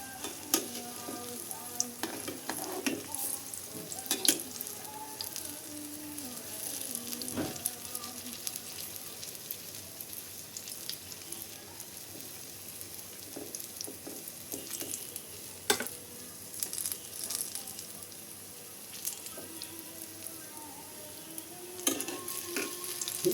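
Banana fritters (kolar bora pitha) sizzle in hot oil, a continuous close frying hiss with scattered pops and occasional clinks of a utensil turning them, steady throughout with no talk.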